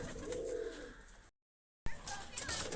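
Soft pigeon cooing at a rooftop loft with new nest boxes, faint and somewhat distant, broken by a brief silent gap before murmuring resumes.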